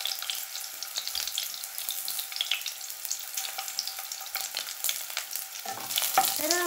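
Onions frying in oil for curry leaf chutney hiss steadily at close range, a fine crackle with light stirring and a brief clink near the end, with no talking.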